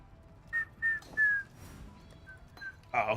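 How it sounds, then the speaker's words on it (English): A person whistles a few short, clear notes close by, in brief separate phrases with small pauses between them, ending with a soft shuffle of movement. "I'm not supposed to whistle because it fucking picks it up weirdly."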